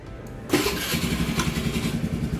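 A first-generation 2012 Honda Scoopy motor scooter with very low mileage starts after a brief pause and settles into a close, steady, rhythmic idle.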